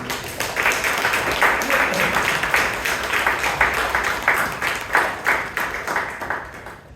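Audience at a Toastmasters club meeting in Bangalore gives a sustained round of applause, dense steady clapping from many people filling the room for about seven seconds.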